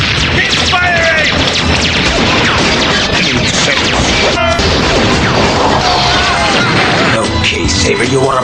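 Dense, loud barrage of weapons fire and crashing impacts in the 1992 Teknoman Blade cartoon, continuous explosive bursts and smashes filling the whole stretch with battle noise.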